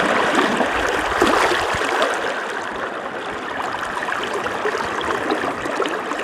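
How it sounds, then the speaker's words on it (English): A shallow, fast-flowing creek on rural California land rushes and splashes steadily, loud and close with a constant broadband roar. "A lot shallow right here, but it's a lot faster flowing too."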